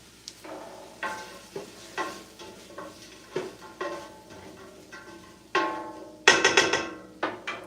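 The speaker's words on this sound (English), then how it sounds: "I should probably stir the onions" Onions sizzle in a pan as a utensil stirs them, striking the pan in irregular knocks and scrapes over a soft frying hiss, with a louder burst of sizzling near the end.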